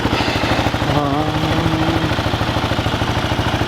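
2008 Kawasaki KLR650 motorcycle idling, a loud close steady single-cylinder thump at an even rapid rhythm, with a brief tonal whine partway through.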